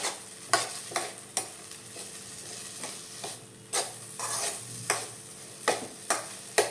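Farali khichdi is sautéed in a pan, a soft sizzle under repeated scraping strokes of a spoon, close and moderately loud with no talk.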